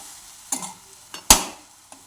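A green chilli vegetable mixture being stirred in a pan, a few separate scrapes and clinks of a spoon against the pan over a faint sizzle, with one sharp louder scrape, close by and without voices.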